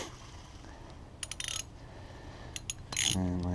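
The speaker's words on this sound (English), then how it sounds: "I did it with socket, and that's about a 6 to 8 inch extension, and a 3/8 ratchet." A 3/8 ratchet turns a socket on a 6 to 8 inch extension while working on an oxygen sensor of a 2005 Grand Caravan, giving a few brief clicking bursts over quiet background.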